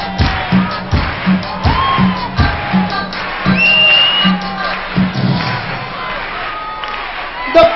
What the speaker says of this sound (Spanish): Y a poquito empezamos a hacer palmas.